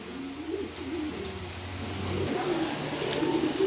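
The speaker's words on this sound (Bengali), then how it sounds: "একবার হাই কোয়ালিটির সেরকম এক পেয়ার কবুতর, বিগ সাইজের এক পেয়ার" A pair of large pigeons coo close by, soft throaty burbling calls rolling on and overlapping with a faint hiss of the surroundings behind them.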